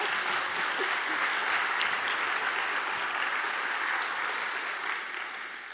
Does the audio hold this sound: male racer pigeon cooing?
no